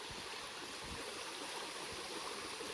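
Water runs through a backpacking water filter on a trail in Kentucky's Red River Gorge, making a steady, continuous rushing trickle close by with no talk.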